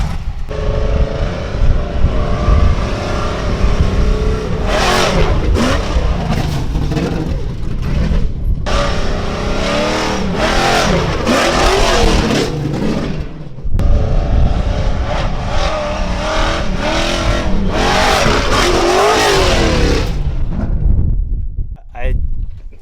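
A race truck engine with a brand-new, freshly tuned carburetor revs and accelerates in loud, close, repeated surges, with brief drops between pulls, before tailing off at the end.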